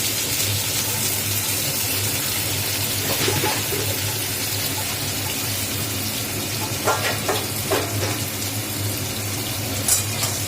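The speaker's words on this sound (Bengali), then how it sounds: "সেই বেগুনটা যে ভেজে রাখবো।" Brinjal pieces fry plainly in oil, with no salt or turmeric added, giving a continuous broad hiss and a few soft crackles and clinks toward the end, no voices.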